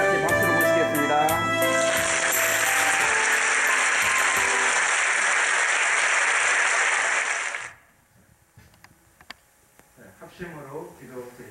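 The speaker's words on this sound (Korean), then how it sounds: "우리 다 같이 박수로 모시겠습니다." A church congregation breaks into dense, loud applause to welcome a pastor, sustained for several seconds before stopping sharply, with a voice speaking at the start and quieter speech and shuffling after.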